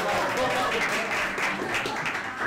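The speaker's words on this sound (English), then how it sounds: "More clapping." An audience claps together in a dense, steady burst of applause lasting a couple of seconds, filling the room at even loudness.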